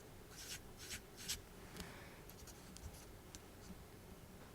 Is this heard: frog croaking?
no